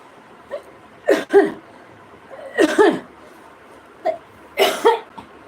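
Several harsh coughs come in three clustered bursts, close and fairly loud, separated by short quiet pauses.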